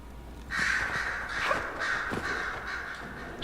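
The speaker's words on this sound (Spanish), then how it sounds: "Estoy escuchando los cuervos, por lo tanto Liliana no tiene que estar muy lejos" Crows cawing in the fantasy game Dragon Age Inquisition, a series of harsh caws repeating over about three seconds against a quiet outdoor ambience, fairly close and clear with no talking.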